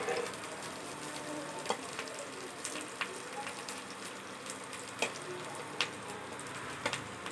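Food fries in a pan with a moderate, steady sizzle broken by sharp pops and crackles at irregular intervals, with no voices.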